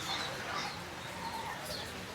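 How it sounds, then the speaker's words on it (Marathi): Pigeons coo at a pet market, soft rolling calls with faint chirps against steady busy background noise and murmuring voices. "इकडं तुम्हाला कबूतर वगैरे पाहायला भेटणार आहे, ते बघा."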